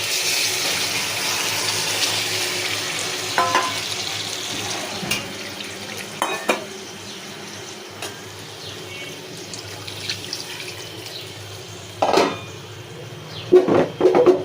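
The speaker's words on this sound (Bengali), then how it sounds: "এখন দিয়ে দেবো পানি" Water poured into a pan of frying rohu fish for a sour and spicy curry, heard as brief splashing gushes near the end over a quiet, steady background hiss.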